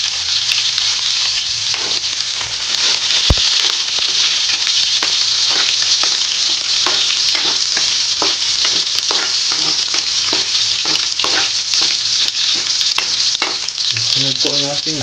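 Garlic fries in hot oil for a sautéed carrot, potato and corn dish, giving a loud, steady, close sizzle with faint crackles and occasional stirring throughout.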